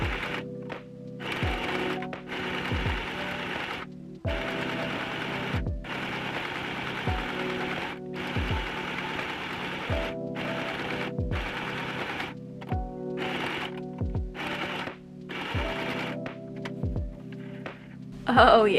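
A sewing machine stitches fabric in a long, even run of rhythmic mechanical thumps over a constant motor hum, close and steady, ending in a brief louder knock.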